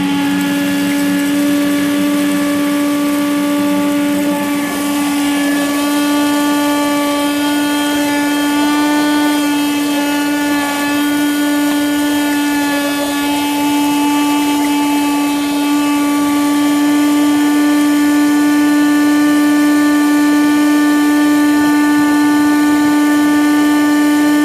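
Gold mining dry washer vacuum running steadily, a loud continuous motor whine with a strong constant hum, close and unbroken as material is sucked up.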